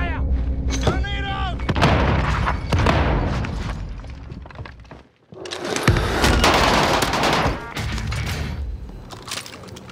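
Gunfire and explosions from a Fortune's Keep match in a battle royale video game, with loud booms, sharp cracks and rapid bursts arriving in clusters, briefly dropping out midway before resuming, with a player's voice talking over parts of it.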